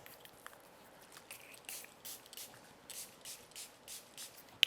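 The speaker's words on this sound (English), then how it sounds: "I'm going to start by spraying her down with some anti-static and fluffing out all of her legs." Anti-static spray misted onto a Miniature Schnauzer's coat during grooming, a series of short soft hissing bursts in an irregular rhythm, close and quiet, with faint handling noises between them.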